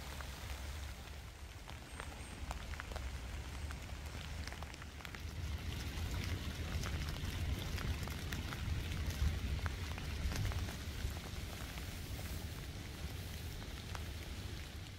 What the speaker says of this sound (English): But now it's raining.